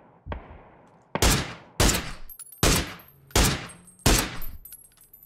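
Six sharp, loud gunshots ring out in PUBG, one lighter crack followed by five heavy reports at roughly even intervals of about half a second to a second, each trailing off with reverb and no talking.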